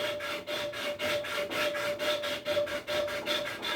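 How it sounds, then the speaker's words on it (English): Wood being hand-sanded with 100 grit sandpaper for a rocking chair, a close, steady rhythmic rasp of quick back-and-forth strokes at about three per second. "I'm trying to sand this side just a little bit"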